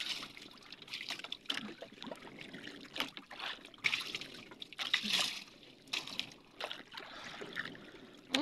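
Water splashed over a freshly caught squid to rinse off its ink, heard as irregular bursts of splashing and trickling near the mic amid faint background noise.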